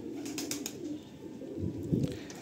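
Pigeons in a loft at Ranihati give soft low coos, a few rounded pulses swelling near the end over a steady murmur of birds, fairly close and not loud.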